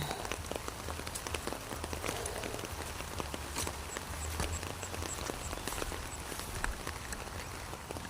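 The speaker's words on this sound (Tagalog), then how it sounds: "ilang araw na tatlong araw na yatang umuulan" Steady rain falls on a surface outdoors, a continuous dense patter of drops with scattered sharper taps, even and unbroken throughout with no voices.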